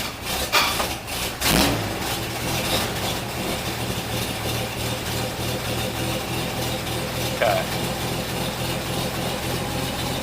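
A barn-find 1942 Chevy 1.5 ton truck with a flooded carburetor sputters and catches, a few loud bursts giving way to a steady, close, low idle that runs evenly to the end.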